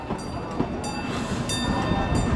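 A train rumbles steadily past at Cedar Point amusement park, a close, continuous rolling roar with faint rail clatter throughout and no clear voices.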